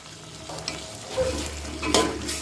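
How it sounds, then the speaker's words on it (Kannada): Finely chopped carrot and beans frying in a pan for masala vermicelli, a close crackling sizzle broken by spatula stirring and scraping knocks, with no voices. "ಚೆನ್ನಾಗೆಲ್ಲ ಹಾಕ್ಬಿಟ್ಟು ಫ್ರೈ ಮಾಡಬೇಕು."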